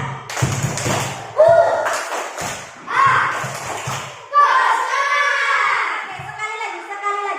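Schoolchildren in an Indonesian classroom perform a rhythmic clapping chant, loud group claps and thumps in short patterned bursts mixed with their chanting voices, then a stretch of sung chant near the end.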